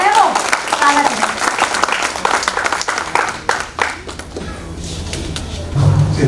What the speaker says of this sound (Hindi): जोरदार तालियां उनका स्वागत है, आप सभी बजाएं।